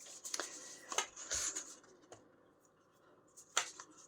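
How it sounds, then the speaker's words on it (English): Tarot card deck being shuffled by hand, close and quiet: several soft riffling and slapping bursts separated by pauses, with no talking. "when we look at this tarot deck, sorry, it's not as easy to shuffle as the other ones"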